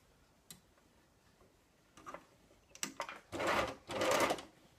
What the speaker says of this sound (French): vous vous réinstallez sous la surjeteuse ou la machine à coudre